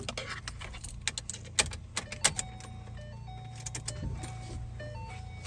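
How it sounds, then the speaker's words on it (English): Warning chime from a Shelby GT500 interior as the key is used: a series of short, evenly pitched electronic tones repeating over several seconds, with keys jangling and small clicks in a quiet garage, no talking. "I'm not a big fan of that chiming noise."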